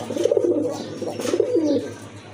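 Pigeons coo close by in low, throaty, rolling phrases, several overlapping calls over about two seconds.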